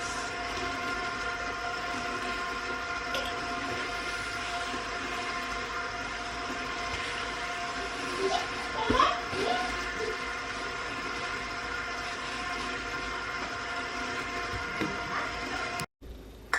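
An electric mixer churns chocolate chip cookie dough with a steady, loud mechanical whir and hum that holds throughout, with a few brief clunks near the end.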